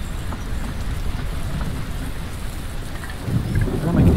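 Heavy rain hisses steadily in the Patron colony builder video game, and a deep rumble of thunder swells near the end.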